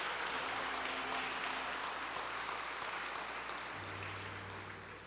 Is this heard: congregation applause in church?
yes